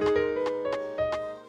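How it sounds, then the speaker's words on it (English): Default FL Studio piano played from a MIDI keyboard: four sustained chords or notes struck about every third of a second, clear and close, ringing alone with no talk. "by default this piano is going to sound like this"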